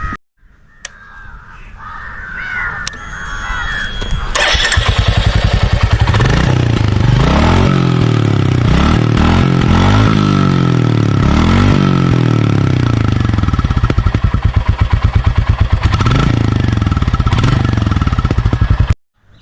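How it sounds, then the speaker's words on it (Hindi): A chrome red BS6 Royal Enfield Classic 350 from 2021 starts up close by, settles into its thumping single-cylinder idle, and is revved repeatedly in loud rising and falling bursts, with birds cawing faintly at the start. "Quickly आपको बाइक रेव करके दिखा देता हूँ."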